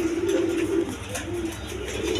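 Pigeons kept for sale, including black-coloured hens, coo steadily and softly in a low repeating rhythm, close by and with no talk over them.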